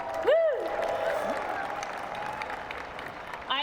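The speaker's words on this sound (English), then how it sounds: "One more round of applause, please" Applause from a university commencement audience, a moderate wash of clapping with a loud rising whoop and cheers near the start, fading to a softer steady patter.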